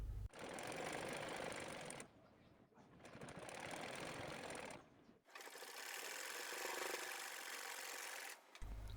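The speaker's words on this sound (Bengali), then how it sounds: "উপরের দিকে আমি একটা চাপ সেলাই দিয়ে দিব" A sewing machine stitches the hem of an Afghani salwar in three long bursts of rapid, steady whirring and clatter, close and loud, separated by brief pauses.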